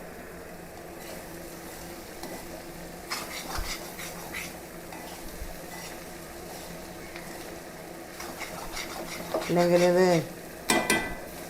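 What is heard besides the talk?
stirring clam curry in a pan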